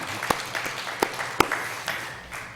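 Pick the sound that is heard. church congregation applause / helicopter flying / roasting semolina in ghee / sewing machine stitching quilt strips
church congregation applause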